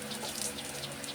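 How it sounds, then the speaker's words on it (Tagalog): Water splashing steadily over a motorcycle as it is rinsed after soaping, a faint, continuous hissing pour with no voices. "Pagkatapos ko yan sabunan, binuhusan ko na siya ng tubig."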